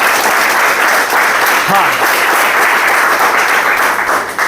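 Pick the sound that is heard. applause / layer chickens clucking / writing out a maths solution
applause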